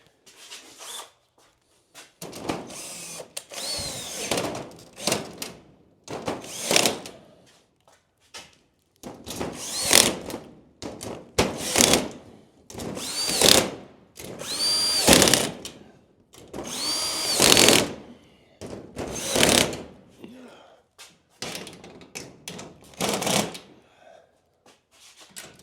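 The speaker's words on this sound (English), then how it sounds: "Back to tightening hundreds of bolts." A power drill drives bolts while a greenhouse is assembled, in repeated short whirring bursts of a second or two separated by quiet gaps, some bursts rising in pitch, close and fairly loud, with no talking.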